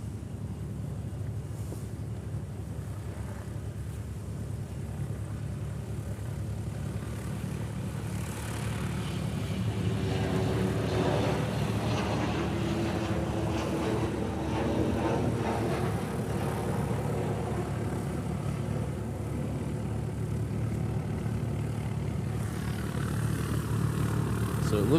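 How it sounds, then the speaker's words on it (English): A Boeing C-40 Clipper military jet passes near Honolulu airport, its engine roar swelling midway and then holding strong under wind buffeting the microphone, with no voices. "Oh, that was a C-40 Clipper we caught there."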